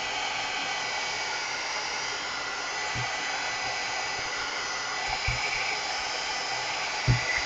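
A heat gun blows steadily over applied paint on a mixed media layout, a constant loud hiss of rushing air with a couple of faint low bumps near the end.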